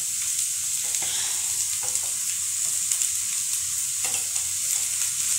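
Chopped onion tossed into a pan of cooking bitter gourd, giving a steady, close hiss of frying with faint stirring scrapes throughout and no voices.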